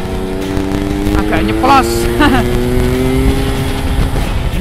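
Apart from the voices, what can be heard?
Yamaha RX-King motorcycle with standard engine and exhaust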